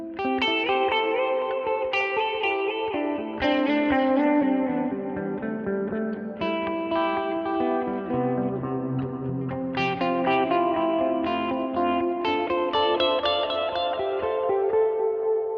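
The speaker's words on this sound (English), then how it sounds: "Where the delayed repeats kind of get lost in the reverb." A guitar plays through a Line 6 Helix, with a continuous, loud, washy stream of notes where delay repeats smear together and sink into a dense reverb wash.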